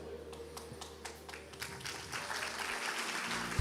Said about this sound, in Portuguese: Aplauda, porque isso talvez ajude você.